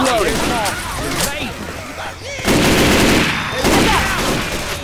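Rapid rifle and machine-gun fire in the zombie shooter video game Left 4 Dead 2, loud bursts of sustained shooting in two waves, with players shouting over the gunfire.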